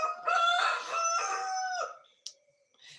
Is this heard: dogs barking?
no